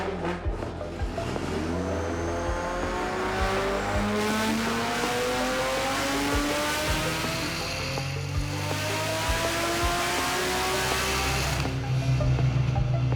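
A Nissan S14 pro car engine, tuned for low and high boost, revs hard on a dyno in repeated climbing pulls, each rising in pitch before dropping back, loud and close the whole time.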